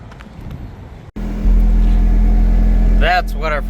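A truck engine turns over at about a second in and settles into a steady, loud low rumble of idling, with a voice briefly speaking near the end.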